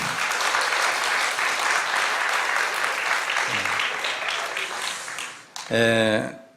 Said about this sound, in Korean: 그래 우리 격려하는 의미로 박수 한번 하겠습니다